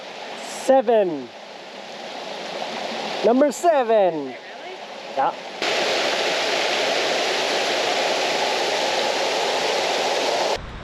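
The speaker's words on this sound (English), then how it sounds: "Waterfall here. Waterfall over there." A waterfall on a wooded hiking trail gives a steady broad rushing roar. It is faint at first beneath people talking and whistling, then grows louder and fills the second half.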